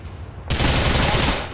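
Gunfire erupts abruptly in GTA 4, a dense, loud burst of shots that cuts in after a quieter moment and continues to the end.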